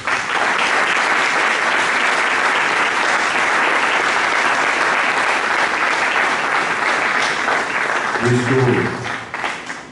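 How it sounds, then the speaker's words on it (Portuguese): A Methodist church congregation applauding during a worship service, a long, full wall of clapping that holds steady and fades near the end as a voice begins to speak. "Você pode aplaudir o Senhor Jesus?"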